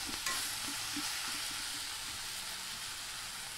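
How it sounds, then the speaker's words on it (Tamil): Ivy gourd fry with grated coconut is stirred in a pan, a steady broad sizzle with soft, faint scraping strokes of the spoon underneath, continuous and close, with no talking. "இதையும் நல்லா கலந்து விட்டுருவோம்."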